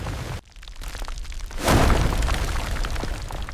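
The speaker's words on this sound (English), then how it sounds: "the big volcano is going to explode!" A foam volcano science project bursts with a sudden loud whooshing boom after a brief hush, followed by a sustained rushing roar and scattered crackles that stay close and loud.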